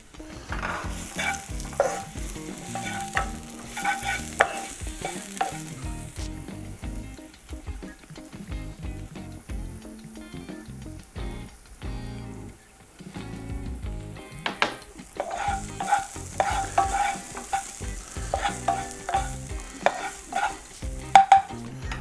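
Shallots sizzle and fry in a hot pan while being stirred, with repeated scraping and clattering strokes over a steady crackle and no talking.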